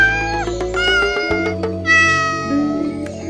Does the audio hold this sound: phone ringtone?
no